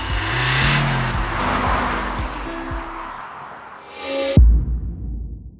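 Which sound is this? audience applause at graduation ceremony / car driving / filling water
car driving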